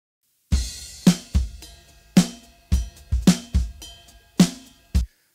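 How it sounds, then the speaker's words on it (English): Mixed drum kit heard dry without room mics, with about a dozen close, punchy kick, snare and cymbal hits in an uneven groove, each decaying quickly into silence. "Let's listen to the drums without the room mics first."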